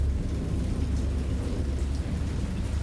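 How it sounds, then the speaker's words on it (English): Video game thunderstorm: steady rain hiss over a deep, continuous rumble of thunder, moderately quiet and unbroken throughout, with no voices. "I know that I heard pearls of thunder and other tones which nature utters only in her wildest moods"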